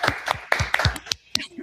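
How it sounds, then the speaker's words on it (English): A few quick, uneven hand claps from a small group welcome an author at a book launch, with voices briefly mixed in. "I'll give a quick round of applause."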